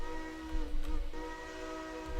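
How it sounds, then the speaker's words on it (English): A switcher locomotive whistle in the Railroader game sounds as a steady, moderately strong tonal blast, holding through the clip over a low rumbling engine. "I do currently like the whistle I chose for this one"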